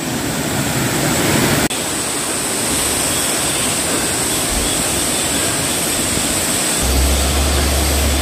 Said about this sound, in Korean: 아 물소리가 너무 좋습니다